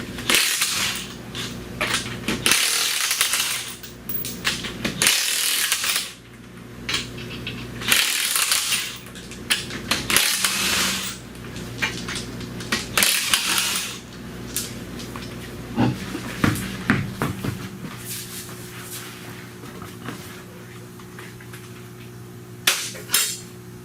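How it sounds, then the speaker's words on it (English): Rattling metallic clanks and hammering knocks as lug nuts are loosened and wheels pulled off a 2007 Saturn Outlook, with a loud close impact at a steady working pace and no speech. "So now let's just see how long it takes for me to pull them wheels off"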